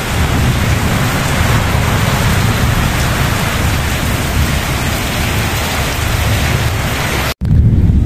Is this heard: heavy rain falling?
yes